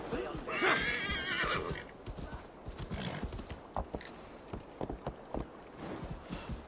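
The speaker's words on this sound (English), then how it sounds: "Oh, that was my horse." A horse neighs loudly in Assassin's Creed Valhalla, a long whinny near the start, followed by a run of clip-clop hoof steps as the animal moves, with someone talking over the game sounds.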